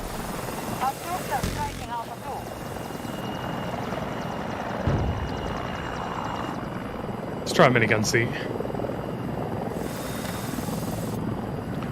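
A helicopter in Battlefield 2042 breakthrough mode drones steadily with a continuous rotor and engine hum, overlaid by brief gunfire and game effects while someone talks.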